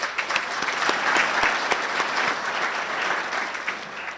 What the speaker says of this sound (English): you give yourself a round of applause.